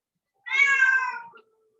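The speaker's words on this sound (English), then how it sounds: "I'm hearing a cat." A cat gives a single clear, drawn-out meow, close and fairly loud, against a quiet background with no talking.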